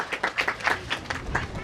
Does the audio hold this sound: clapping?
yes